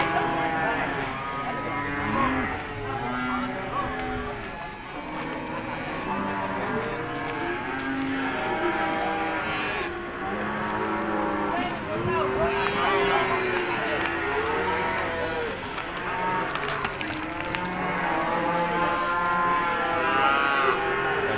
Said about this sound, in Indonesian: Sapi mabuk ya.